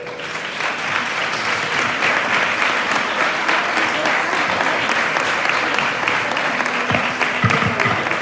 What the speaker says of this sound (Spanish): Pido un fuerte aplauso para ellos y para todos los valientes portadores.